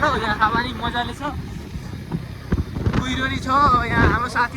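Heavy wind buffets the microphone during a motorcycle ride on a cold, misty road in East Nepal, a rough, gusting rumble that rises and falls throughout, with voices talking over it.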